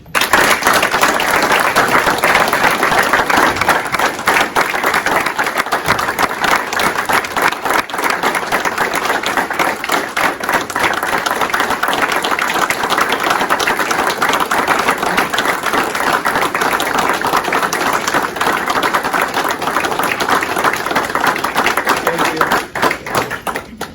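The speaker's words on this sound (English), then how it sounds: "give one more round of applause to Sheriff David Beth" Indoor audience at a sheriff's law enforcement award ceremony clapping hard, a dense and loud round of applause that holds steady for the whole stretch with no talk.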